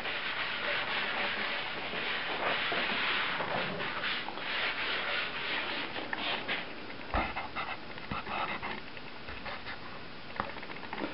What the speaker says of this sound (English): So now we've laid down our base coat.